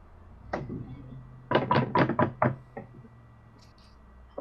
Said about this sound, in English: I guess I'll look in the frame and knock on the frame.